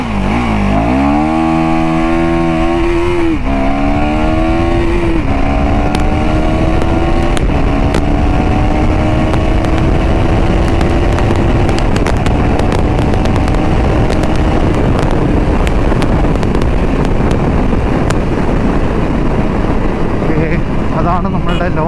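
A KTM Duke 390 Gen 3 motorcycle launches hard with launch control, its engine revving up through several rising gear pulls with a loud, continuous roar, close by, with wind rush building underneath.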